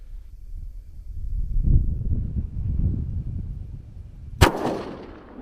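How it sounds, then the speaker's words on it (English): A single rifle shot from a 22 DPC or 6mm ARC cartridge at a long-range shooting setting, a sharp loud crack with a short rolling tail, heard after several seconds of low wind rumble. "that is literally the 12th shot out of this rifle"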